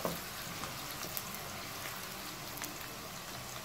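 Chopped onions frying in a pan of oil for chicken karahi, a soft, steady sizzle with faint crackles, quiet and continuous throughout with no talking.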